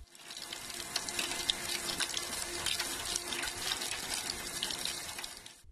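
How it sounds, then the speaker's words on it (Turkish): Water pours from a stone gargoyle rainwater spout on the ancient Patara lighthouse, a steady splashing, trickling flow that stays fairly soft and continuous without voices. "yağmur sularının tahliyesi için yapılan çörtenlerden de su akıtmayı başardı"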